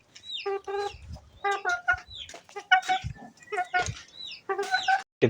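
A desi hen clucks repeatedly on a farm, in close, loud bursts of rhythmic clucks with brief pauses, and a faint voice occasionally underneath.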